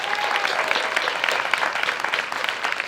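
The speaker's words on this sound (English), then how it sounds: "I want you to clap it up for him too" An audience at a rally honoring Ruth Bader Ginsburg claps for John Lewis, producing steady, dense applause from many hands that holds at an even level throughout, with no voices standing out.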